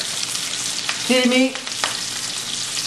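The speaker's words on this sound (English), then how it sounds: "Put it in the frying pan and sear it well on both sides." Salt-and-pepper seasoned meat searing in hot butter and oil in a frying pan gives a continuous crackling sizzle throughout, with a short spoken phrase in the middle.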